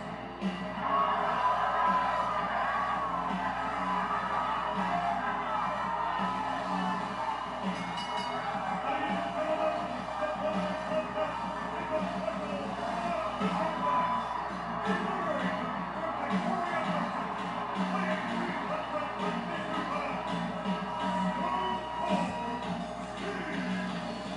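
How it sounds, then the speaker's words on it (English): A large wrestling arena crowd roars and cheers continuously, a dense wall of voices with occasional whoops rising above the din. "Listen to this crowd!"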